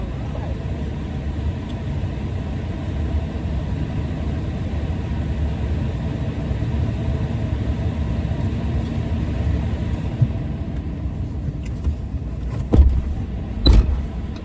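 A Tesla Cybertruck drives along with a steady, muted road and cabin hum, no engine roar, holding constant throughout, with a couple of brief thumps near the end.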